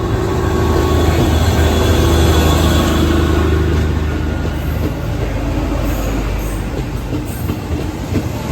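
Subang-bound commuter train rolling through Porong station, a loud steady rumble of wheels and carriages with faint clickety-clack, holding close and continuous before easing slightly toward the end.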